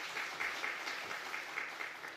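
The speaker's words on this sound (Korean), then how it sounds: "우리 박수 한번 칠까요?" Congregation applauding during a Sunday church service, a soft, fairly distant patter of clapping that stays steady and even throughout.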